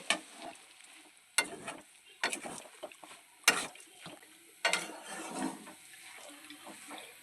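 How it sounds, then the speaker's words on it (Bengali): Coconut and ground peanut filling for vegetable chops being stirred in a pan, with intermittent scraping strokes at an uneven rhythm over a quiet background, close by. "এই সব কিছুকে একসঙ্গে ভালোভাবে নাড়াচাড়া করে নেওয়া হবে"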